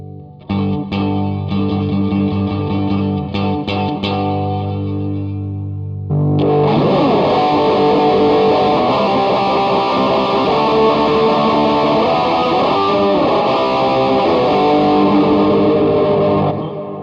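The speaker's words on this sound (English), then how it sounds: "this adds a fifth on top of the note. So it becomes like a little bit like a power chord" Electric guitar run through an Electro Harmonix POG 3 octave pedal set to add a fifth above each note, giving a power-chord-like tone; a few sparse plucked notes, then a loud, sustained, dense strummed passage with effects, no talking.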